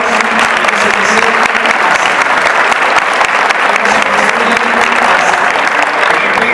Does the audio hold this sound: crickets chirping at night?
no